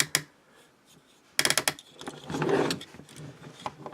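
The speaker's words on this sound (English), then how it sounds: "The legs are on soft ratchets, and they're stout enough to be able to hold the weight of this die cast." Small ratchet joints on the legs of a die-cast Magna R35 Skylynx robot figure click in short dry bursts, with a quick cluster near the start, a denser run in the middle and softer scattered clicks between.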